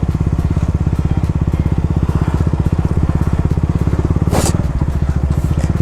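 A motorcycle rides across the Bogibeel bridge, its engine throbbing in a loud, steady, rapid pulse close by, with wind buffeting and a brief rushing gust near the end.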